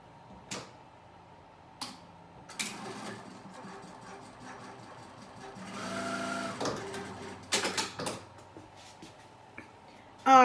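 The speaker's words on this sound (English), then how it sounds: "run to the sewing machine, get this sewn up" A sewing machine whirs in a short stitching burst in the middle, surrounded by scattered clicks and handling knocks in a quiet room.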